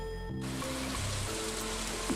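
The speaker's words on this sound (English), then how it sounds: "And it is raining today" Steady rain in the video game Stardew Valley Expanded on Ginger Island, an even hiss of falling rain that starts abruptly over soft game music tones, with no talking.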